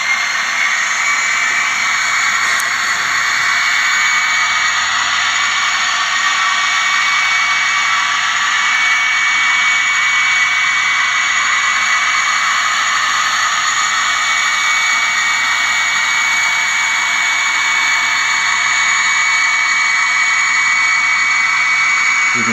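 An HO scale Bachmann DD40AX locomotive, Union Pacific Centennial #6900, with a Soundtraxx sound decoder is throttled up to notch 10 while pulling a long string of boxcars. It gives a loud, steady, continuous diesel drone and whine with no talking.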